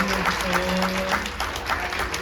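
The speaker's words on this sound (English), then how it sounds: "Let's give another round of applause for all of our speakers this morning." An audience at a summit claps for the speakers in a steady, moderate round of applause, with a faint voice or hum running beneath it.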